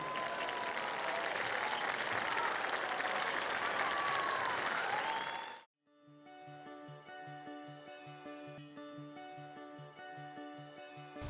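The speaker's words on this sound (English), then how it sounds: "One more big round of applause" Crowd applause in a high school gym at a homecoming ceremony, loud dense clapping for over five seconds, then cutting abruptly to a steady rhythmic musical tone pattern.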